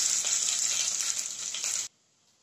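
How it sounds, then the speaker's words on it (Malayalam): Urad dal and mustard seeds roast in hot oil with a bright, steady hiss of sizzling that stops abruptly near the end, leaving near silence. "ഉഴുന്നുപരിപ്പ് ഒന്ന് മൂത്ത് വരണം"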